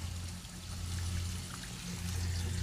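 Fuel pouring from a SureCan fuel can spout into a tank, a steady, faint gurgling liquid flow with a low hum underneath, continuous throughout.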